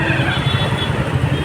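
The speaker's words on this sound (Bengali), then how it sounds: "বাইকে করে যাচ্ছি" Riding a motorcycle along a road fills the air with a steady, loud engine rumble and rushing wind noise, with no clear talking.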